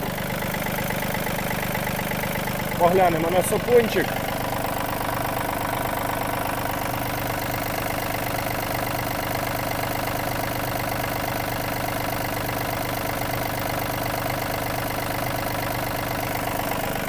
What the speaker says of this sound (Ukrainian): Двигунчик працює як годинник, усі фільтра та масла замінено.